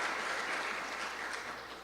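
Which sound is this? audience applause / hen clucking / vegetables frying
audience applause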